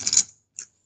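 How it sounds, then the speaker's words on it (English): Poker chips shuffled by hand, giving a bright clattering burst and then a single short click after a pause, close and alone. "If you're wondering what that noise is, I'm just shuffling poker chips."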